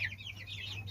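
Young tiger chicken chicks, just over a month old, give a quick run of soft, high cheeping clucks close by, steady and continuous over a low background hum.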